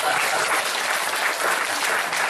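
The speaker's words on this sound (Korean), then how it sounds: "여러분 우리 한번 격려해 주시고 박수 쳐 주시기 바랍니다" A church congregation bursts into dense, steady applause during a Sunday service at a Presbyterian church in Daejeon, the clapping loud and sustained throughout with no voices standing out.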